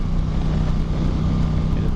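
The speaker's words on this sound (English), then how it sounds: "When you get this bike stock, the exhaust is very quiet." Stock-exhaust Yamaha FZ-07 motorcycle on the move, giving a steady, close engine drone with a low rumble and continuous wind rush that stays constant throughout.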